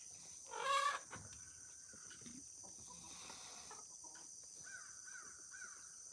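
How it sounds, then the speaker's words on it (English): Crows caw in the distance outdoors in a quiet rural spot, a loud burst of cawing near the start followed by fainter repeated calls, over a steady high insect drone. "I think that's crows that you're hearing"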